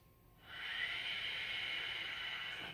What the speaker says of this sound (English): We'll just take a couple of breaths here